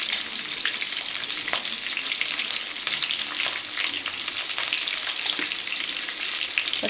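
Onions and green chillies fry in a pan, making a steady, bright sizzle with scattered crackles and light stirring scrapes throughout. No voices are heard.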